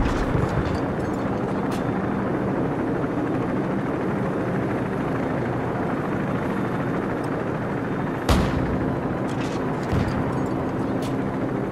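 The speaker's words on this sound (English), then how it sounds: "Friendly helicopters entering the area." Friendly helicopters fly in amid a Call of Duty 4: Modern Warfare battle, a steady loud rotor roar filling the scene with a few sharp bangs of gunfire breaking through.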